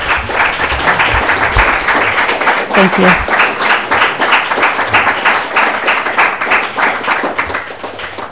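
An audience applauds for a speaker at an Italian lecture on environmental ethics and food choices, steady, full clapping from a sizable room that runs throughout, with someone briefly speaking partway through.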